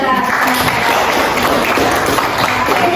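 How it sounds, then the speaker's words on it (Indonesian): A class of students applauding together in a classroom, a dense and steady wash of hand claps lasting a few seconds, loud and close, with faint voices mixed in. "tepuk tangan juga"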